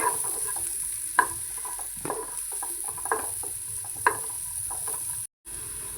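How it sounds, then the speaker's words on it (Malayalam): Chopped capsicum, carrot and onion sauté in a pan, giving a steady close sizzle broken by several sharp scrapes and knocks of a stirring spatula, with one brief dropout near the end. "ഇനി നമുക്ക് അരിഞ്ഞു വെച്ചിരിക്കുന്ന ക്യാപ്സിക്കം, ക്യാരറ്റും സവാളയും ചേർത്ത് കൊടുക്കാം. നന്നായിട്ടൊന്ന് വഴറ്റിയെടുക്കണം."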